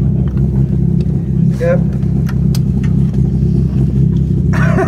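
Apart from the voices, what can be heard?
VW rally car engine revving at shakedown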